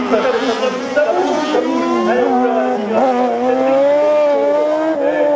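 Rally car racing on a slalom course in Lessay, its engine loud and close in a continuous revving howl whose pitch rises and dips sharply through gear changes, with a commentator's voice over it.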